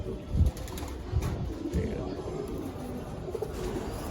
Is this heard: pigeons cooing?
yes